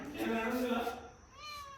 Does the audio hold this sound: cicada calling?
no